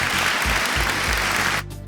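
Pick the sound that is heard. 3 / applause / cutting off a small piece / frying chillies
applause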